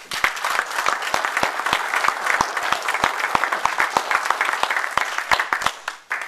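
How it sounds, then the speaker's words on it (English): A crowd breaks into sustained applause, many hands clapping steadily with sharp individual claps standing out, loud and continuous throughout. "I think we all owe the Hoffmans a round of applause for all the good you're doing."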